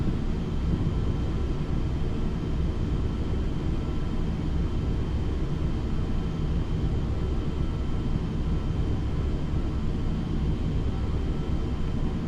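Steady, loud airplane engine drone in Flight Simulator X, a continuous unbroken roar filling the whole stretch with no voices over it.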